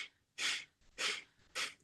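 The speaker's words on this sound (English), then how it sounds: "we take some very quick little puffy breaths out through the nostrils" Three quick, sharp puffs of breath forced out through the nostrils during a core exercise class, evenly spaced and close, with brief quiet gaps between each snort-like exhale.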